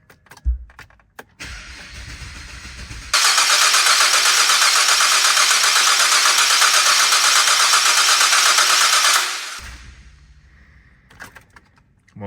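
A Ford FG XR6 Turbo engine turning over on the starter with the ignition coils disconnected, a loud steady cranking whir of about six seconds that stops without firing, with clicks and faint shuffling before and after.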